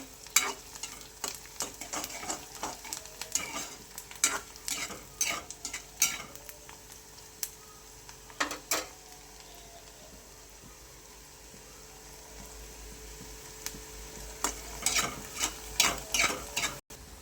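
Onions frying in a pan while a spoon repeatedly scrapes and stirs them, sharp clattering strokes over a steady sizzle, busy at first, then a calmer stretch before the stirring picks up again near the end; no talking.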